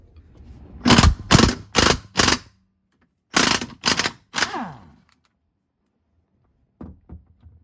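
Wrench working on the bolt holding a seatbelt mechanism inside a Jeep camper conversion: a quick run of four sharp ratcheting bursts, a pause, then three more, with a couple of faint clicks near the end.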